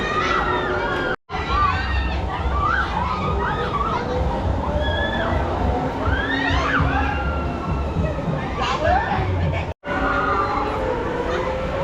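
Crowd of riders shrieking and yelling on a rotating amusement park ride at Fun World, Bangalore. The screams rise and fall continuously over a dense rumble of wind and machinery, interrupted by two short dropouts.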